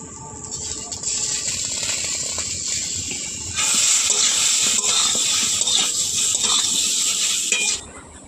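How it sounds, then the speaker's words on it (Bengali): Potatoes frying in a pan over low heat, a steady hissing sizzle that grows louder partway through, then cuts off near the end. "আলু ভাজাটা হয়ে এসেছে"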